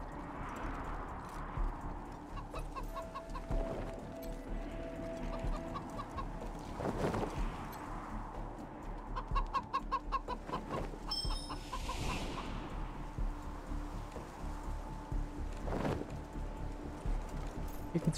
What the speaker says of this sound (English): Chicken's following me around.